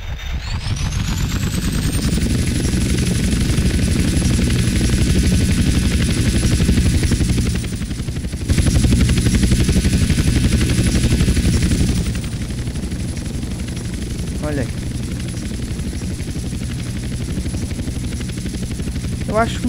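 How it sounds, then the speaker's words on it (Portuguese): Aircraft flying in GTA Trilogy, a steady loud engine drone with a high whine running throughout, dipping briefly midway and continuing without talk. "Vamos fazer um voo panorâmico."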